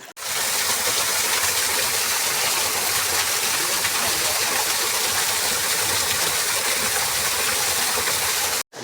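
A rushing stream pours steadily and loudly close by, a broad continuous gushing of water that fills the whole stretch without pause.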